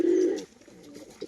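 A pair of Fulshira Madras pigeons coo, with one full, close coo at the start followed by softer, shorter coos trailing off in a brief moment.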